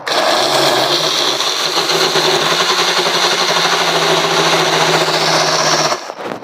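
An electric blender making juice whirs loudly in one steady high-pitched drone for about six seconds, then cuts off abruptly.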